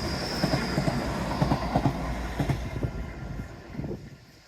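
A train rolls past nearby with rumbling wheels and rhythmic clacking on the rails, a faint squeal above, fading as it moves away.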